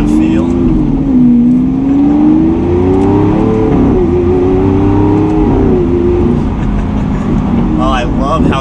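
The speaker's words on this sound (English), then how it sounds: "That V12 sounds insane too." A 2016 Lamborghini Aventador SV with its V12 and single-clutch gearbox accelerates in Corsa mode, heard loud and close from inside the cabin. The engine's throaty drone climbs steadily in pitch and dips briefly during a gear change.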